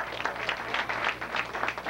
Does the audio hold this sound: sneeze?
no